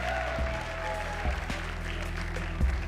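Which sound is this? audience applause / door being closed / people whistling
audience applause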